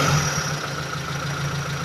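A Suzuki Futura car engine idling at around 700 to 750 RPM after an idle fix, with a steady, even hum and faint tonal whine, close and constant throughout, no talk.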